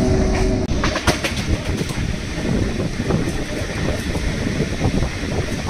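Goghat local train running from Howrah, its rail coaches rumbling with a steady, loud clickety-clack heard from inside the car, with faint bird calls in the background.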